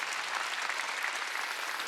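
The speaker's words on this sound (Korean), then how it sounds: "박수" Church congregation applauding during a Wednesday worship service, a dense, steady wash of clapping that holds evenly at moderate loudness for the whole stretch with no voices on top.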